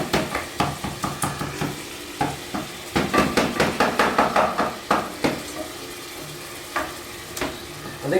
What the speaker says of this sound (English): We're just going to kind of mash that up some more, get that going